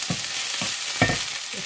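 Mint leaves frying in a pan, with soft sizzling and a few stirring scrapes at a steady rhythm, close and moderately quiet.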